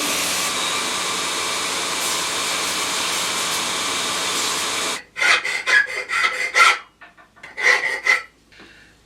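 Hand filing on small metal scabbard fittings: a continuous rasping for about five seconds, then a series of short, distinct scraping strokes with brief pauses between them, close and fairly loud.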